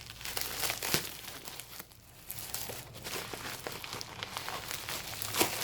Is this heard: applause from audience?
no